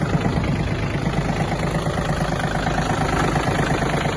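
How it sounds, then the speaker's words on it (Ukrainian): A Yanmar AF-226 mini tractor's engine runs with the power take-off shaft engaged, a loud, steady close diesel drone with a slight rhythmic knock throughout, no voices. "Навіску опустили і включаємо вал збору потужності."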